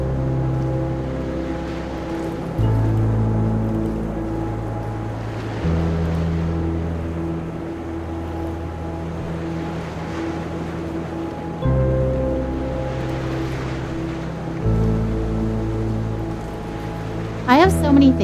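Water and ocean waves from the video game That Dragon, Cancer, a steady surf wash with swelling surges beneath sustained droning musical tones.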